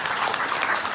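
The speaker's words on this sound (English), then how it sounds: "A round of applause for him." An audience applauds a timekeeper at a school debate contest, a dense and steady clapping that stays loud for about a second.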